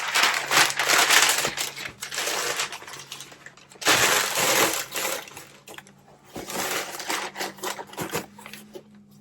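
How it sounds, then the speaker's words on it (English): Packing paper crinkles as it is pressed into a USPS shipping box, coming in three close, loud bursts of crackling with short quieter pauses between them. "Put a little piece of packing paper on top."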